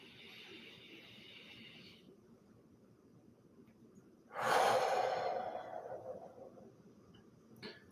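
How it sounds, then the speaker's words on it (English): A single long, deep outward breath during a guided meditation, a close, soft whooshing exhale that rises suddenly and slowly fades, set against quiet room hiss and a faint high insect-like chirp. "And as you breathe out, relax and release."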